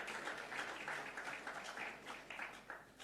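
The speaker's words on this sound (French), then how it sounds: "vous pouvez applaudir ces dirigeants." Audience applause breaks out for Armenian leaders during a speech, a moderate, fairly distant wash of clapping that holds steady throughout.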